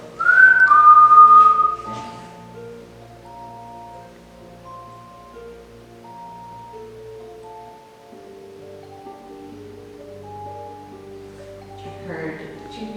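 A person whistles a slow, wavering tune up close inside an abbey monastery at night, opening with a loud high note, then softer sustained notes with a brief rustle near the end.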